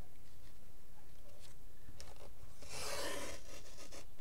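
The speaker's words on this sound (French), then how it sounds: "Alors, ensuite, il faut que je coupe ici." A mask box being cut by hand without scissors, heard as a close, raspy scraping that builds to a louder burst of friction near the end over a faint low hum.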